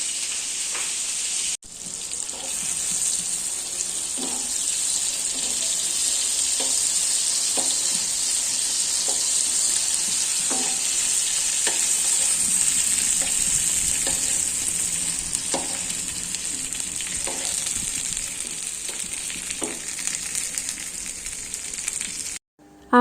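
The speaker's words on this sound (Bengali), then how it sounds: "এদিকে হচ্ছে মাছ ভুনার জন্য হচ্ছে পেঁয়াজটাকে ভালোভাবে লাল করে ভেজে নিতেছি" Onions frying in a pan for fish bhuna give a loud, continuous hiss and sizzle up close, broken by regular light taps and scrapes of a spatula stirring about every second.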